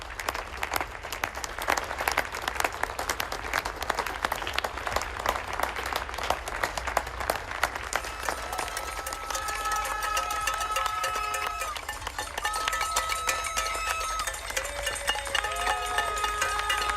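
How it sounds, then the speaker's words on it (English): Applause for NHS frontline workers heard from outdoors, a sustained patter of many hands clapping at a distance with occasional cheers, continuing steadily throughout. "The applause has just started."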